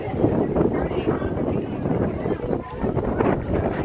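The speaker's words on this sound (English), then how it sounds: "The trees are rocking and rolling in this wind." Gusty wind buffets the microphone on a day out at the zoo, a continuous rough rumble that rises and falls while people talk over it.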